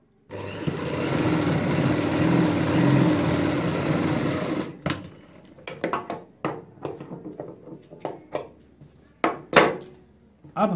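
A sewing machine stitches the edge of a ladies' purse in a continuous close whirring run for several seconds, then stops, followed by scattered clicks and handling noises of fabric and parts.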